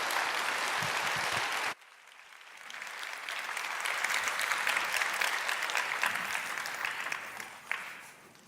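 A church congregation applauds for the pastor's wife during a summer prayer meeting, a sustained wash of clapping that starts after a brief pause and swells steadily, full and moderately loud.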